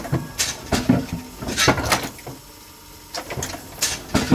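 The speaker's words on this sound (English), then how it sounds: "we are ready to start this machine up" A die cutting machine under repair starts up and runs, giving loud repeated mechanical clunks and rattles in an irregular rhythm, with a brief quieter gap midway before the thumping resumes, close by.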